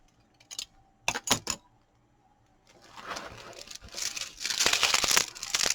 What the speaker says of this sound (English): Pull my plastic bag